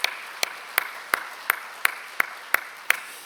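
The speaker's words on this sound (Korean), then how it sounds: "우리 하나님께 영광의 박수 올려드리겠습니다" The congregation of Banwol Church claps in unison during a Sunday service, a steady rhythmic beat of sharp claps about three per second over a soft room hum.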